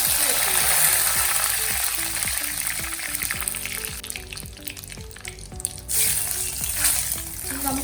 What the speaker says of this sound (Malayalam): കടുകും ഉലുവയും കൊട്ടിയതിന് ശേഷം രണ്ടു മുളകിട്ട് ഇട്ട് കൊടുക്കുന്നു